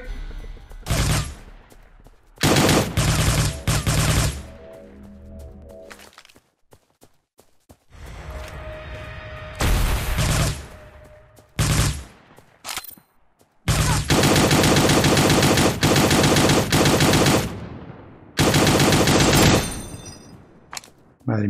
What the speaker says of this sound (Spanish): Tengo activado también el disparo automático.